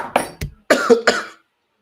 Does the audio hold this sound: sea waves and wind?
no